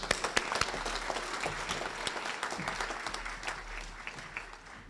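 Audience at a Prince Hall Masonic grand lodge scholarship and awards ceremony breaking into applause, a full dense burst of clapping with a few sharp claps up front, sustained then gradually easing off.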